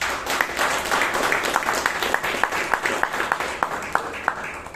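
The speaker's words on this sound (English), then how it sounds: "Please give PM Gangaadhar a huge round of applause" Members at a Bangalore Toastmasters club meeting applaud a speaker, a moderate round of clapping with a few sharper individual claps standing out and some voices murmuring beneath.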